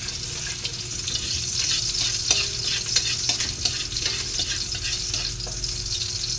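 Garlic sautéing in a pan with liver while being stirred: a steady sizzle broken by a few sharp clicks and scrapes of the utensil against the pan, no talking.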